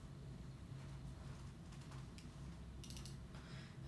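Someone types a password on a Mac computer keyboard, giving soft, rapid key taps over a steady low background hum, quiet and close, with no talk.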